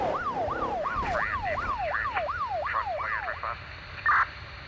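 An ambulance siren in the BeamNG Drive driving game wails in a rapid, repeating up-and-down sweep for several seconds, loud and close, followed by a brief separate burst of noise.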